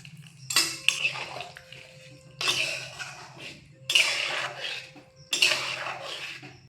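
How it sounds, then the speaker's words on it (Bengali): Chickpea cooking water is poured into a pan of potatoes and chickpeas, coming as several separate splashing pours with pan clatter between them, close and fairly loud. "আলুর সঙ্গে ছোলাটাকে মিশিয়ে নেওয়ার পর দিয়ে দিচ্ছি ছোলা সেদ্ধ করা জলটা।"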